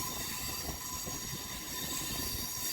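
A Howrah–Amta local train rumbling along the rails with a steady roar and faint high wheel squeal, heard from on board while curving over the Kharagpur main line.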